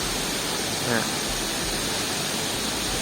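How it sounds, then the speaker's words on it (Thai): The Kuang Si waterfall in Luang Prabang, Laos, sends up a steady, dense rush of falling and flowing water, loud and constant from start to finish. "นี่จะเป็นทางน้ำตกที่ ตกลงมาแล้วก็ไหลลงไปเนาะ"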